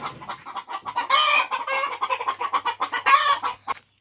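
Several hens cluck and squawk close by in a shed, busy overlapping calls with a couple of louder bursts, no talking.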